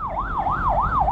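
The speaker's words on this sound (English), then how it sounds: "Oh, may ambulance, tabi tayo." Ambulance siren on a road, a loud wailing tone sweeping steadily up and down in a regular rhythm, close and continuous over low traffic rumble.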